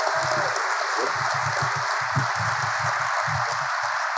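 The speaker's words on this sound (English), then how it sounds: "Let's give our board one more round of applause." An audience claps in a steady, dense wash of applause at a school system's state-of-the-system address, sustained for several seconds without a break.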